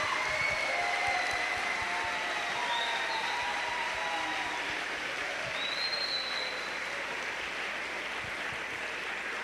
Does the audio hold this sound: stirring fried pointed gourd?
no